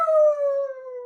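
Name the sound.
person imitating a wolf howl in a guessing game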